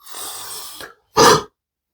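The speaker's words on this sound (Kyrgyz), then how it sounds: "Демек биз терең дем алабыз, анан катуу дем чыгарышыбыз керек да" A single forceful cough-like exhalation, loud and close, follows a longer breathy exhale, done as a deliberate technique to bring on a cough.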